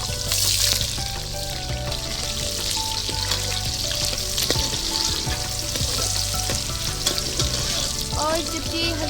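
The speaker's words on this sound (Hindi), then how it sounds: "अब हम इसके अंदर 2 प्याज डालेंगे" Two onions frying in about one and a half cups of hot oil in a deg pot for village-style rice pulao, a dense, loud, close crackling sizzle with occasional stirring scrapes throughout.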